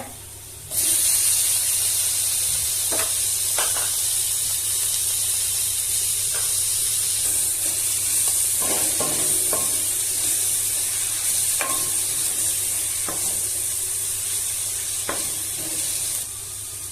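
A steady, loud sizzle of chopped tomatoes frying in a pan, with occasional clicks and scrapes of stirring breaking through the hiss.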